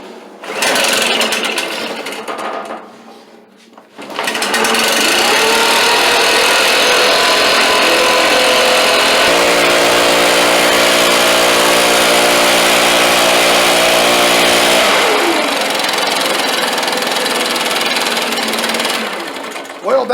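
A Stihl BR600 backpack leaf blower engine with a hard-pull problem and fresh valve adjustment runs loud and close, a raspy two-stroke roar that briefly drops off, then revs and holds steady before easing down at the end.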